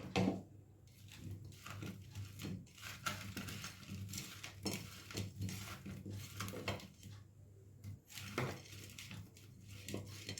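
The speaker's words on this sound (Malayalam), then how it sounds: "ഇത് നന്നായിട്ട് യോജിപ്പിക്കുക, ഇളക്കി യോജിപ്പിക്കുക." A spoon stirs curry ingredients with chili powder and turmeric in a pan, making quiet, irregular scrapes and taps against the metal. The sounds are close and soft, and no one speaks.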